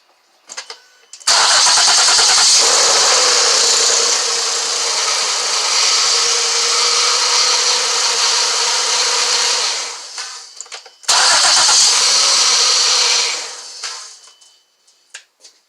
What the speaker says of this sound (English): Starts up just perfectly fine.